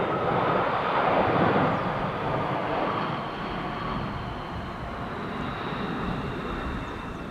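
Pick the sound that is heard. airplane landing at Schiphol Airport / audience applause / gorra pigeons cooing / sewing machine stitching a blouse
airplane landing at Schiphol Airport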